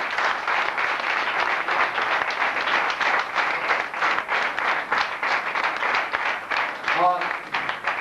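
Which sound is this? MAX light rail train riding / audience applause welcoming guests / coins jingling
audience applause welcoming guests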